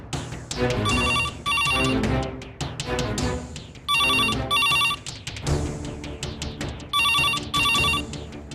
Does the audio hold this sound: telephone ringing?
yes